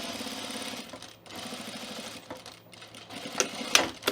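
Sewing machine stitching along a shirt cuff of a Cameron button-up, a steady close-up motor whir with a brief pause midway and a few sharp clicks near the end.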